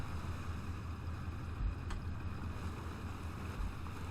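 Fishing boat engine idling at low throttle in World Ship Simulator, a steady low rumble with wind and water wash around it.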